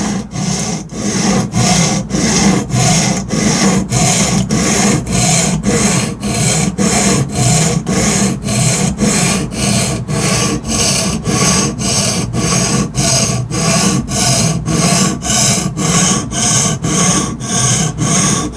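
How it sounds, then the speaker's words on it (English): A knife is sharpened on an Atoma diamond whetstone in a Tsprof K03 guided sharpener, a loud, close, rhythmic rasping scrape repeating evenly back and forth about twice per second with brief gaps between strokes. "It holds the angle for you, so then you just run your stone back and forth on it."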